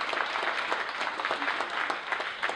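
A crowd at a poetry slam applauds a newly introduced judge, and the sustained, even clapping fills the space from start to end.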